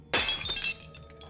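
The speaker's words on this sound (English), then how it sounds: "The frame slipped from his numb hands and shattered on the floor." A picture frame drops and its glass shatters on the floor: one sharp, bright crash followed by a brief scatter of tinkling shards that quickly fades.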